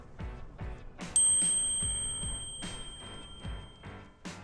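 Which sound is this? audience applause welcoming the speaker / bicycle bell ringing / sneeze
bicycle bell ringing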